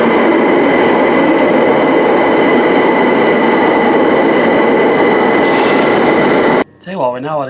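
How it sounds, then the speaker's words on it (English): A Heathrow Express Class 387 electric train rumbles loudly and steadily at close range with a continuous whine, cutting off abruptly before a voice starts speaking. "we're now on a Heathrow Express Class 387"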